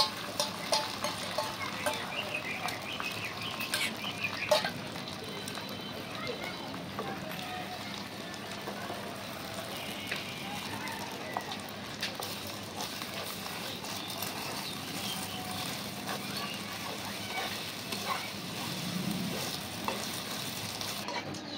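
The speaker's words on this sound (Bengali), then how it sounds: "তেলটা গরম হয়ে গেছে, এখন ডিমটা দিয়ে দিব।" An egg fries in hot oil in a pan, crackling and sizzling steadily with scattered pops and light clatter for the whole stretch.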